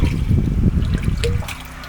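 Jeevamrutham, a liquid farm preparation, pours from a container into a plastic can in a garden, a short close gurgling trickle that tapers off within two seconds.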